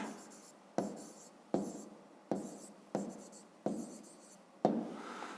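A pen writes an answer by hand on paper in a run of short scratchy strokes, about seven in quick succession, close and quiet with no talking.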